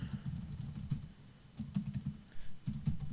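Computer keyboard typing in short clustered bursts of clicks with brief pauses, close and fairly quiet, while someone writes Fortran and C code.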